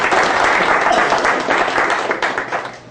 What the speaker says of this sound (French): Alors, on peut l'applaudir,